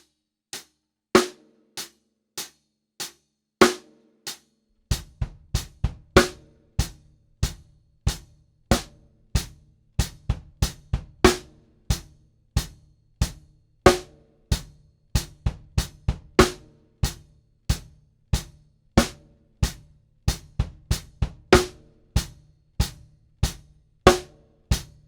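Drum kit exercise with single bass drum strokes played slowly under a steady snare backbeat. Sparse hits open the passage, then settle into a regular, evenly spaced pattern of distinct close strikes with no talking.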